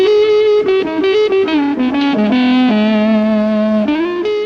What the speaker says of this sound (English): The woman tone is produced by using either the bass pickup